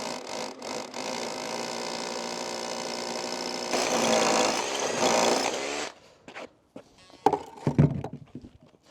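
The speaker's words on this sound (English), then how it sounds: "Equipment that I'm using is battery-powered SDS Plus Makita, and the drill bit that you will need, it's 3/4" A battery-powered Makita SDS Plus drill with a 3/4-inch Bosch bit whirs and hammers steadily while drilling a deck anchor hole for a pool cover, then stops and gives way to short clunks and knocks.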